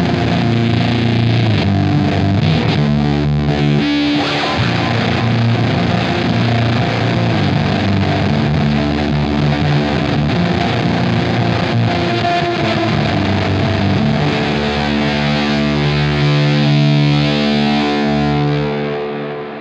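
Electric guitar played through a Black Arts Toneworks Destroyer V2 fuzz pedal with delay, a loud, dense wall of noisy distortion with sustained chords and swirling repeats that fades at the end.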